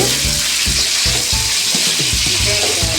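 Eggplant sautéing in hot oil in a pan gives a loud, steady sizzle, with rhythmic scraping strokes of a spatula stirring through it, close up and without speech.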